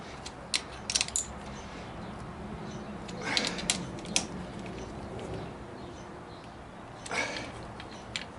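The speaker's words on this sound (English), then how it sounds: "I think this little wrench here is plenty good for tightening these down" A small wrench tightening bolts that had been overtightened with a half-inch breaker bar, giving sparse metallic ratcheting clicks and clanks in irregular bursts, close by and moderately loud over a low background.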